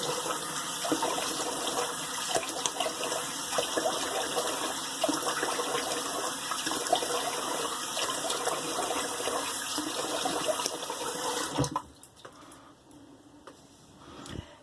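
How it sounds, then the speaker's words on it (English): A tap runs cold water in a steady, loud gush for a post-shave rinse, close by, then cuts off abruptly near the end, leaving quieter drips and handling sounds. "let me do a cold rinse"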